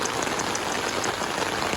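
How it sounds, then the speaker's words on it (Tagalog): Heavy rain pours steadily during a typhoon, a dense, continuous hiss of drops drumming on surfaces with no pauses and no talking. "Dahil alam mo, ulan nga."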